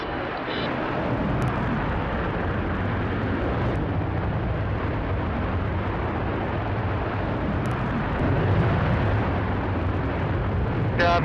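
Virgin Galactic spaceship rocket motor firing after release from the carrier aircraft, a continuous loud broadband roar that holds steady throughout.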